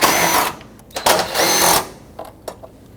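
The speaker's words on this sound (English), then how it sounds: "we have 2 8mm bolts. Remove both of them." A power drill spins out 8mm bolts from the front bumper cover of a 2009-2014 Ford F-150, two close, whirring bursts of about half a second each, followed by faint clicks and handling noises.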